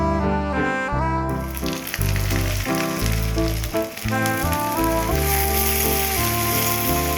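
Chopped onion, added after grated coconut, frying in hot oil for a Bengali mixed vegetable dish, giving a continuous loud sizzle with occasional stirring and no voices.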